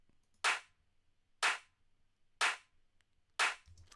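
A clap sample from a jacking house track, four crisp isolated hits evenly spaced about a second apart, each with a short bright decay over near silence.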